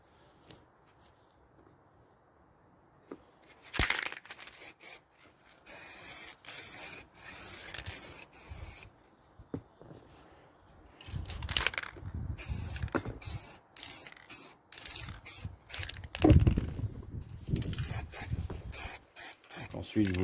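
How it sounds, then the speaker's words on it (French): Spray paint can hissing out layers of paint onto a painting surface, in broken bursts of steady airy spray separated by pauses and light rubbing, close and fairly quiet. "je travaille à la bombe"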